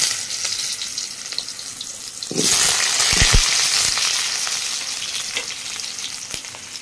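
Potatoes hit hot oil seasoned with cumin and bay leaf, bursting into a loud, steady sizzle a couple of seconds in that keeps crackling near and alone, with a few stirring knocks.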